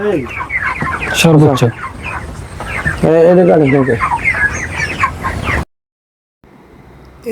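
Broiler chickens fill a low poultry shed with a torn tin roof: a close, loud chorus of clucks and rising calls overlaps for several seconds, then cuts to a brief silence before quieter sound returns.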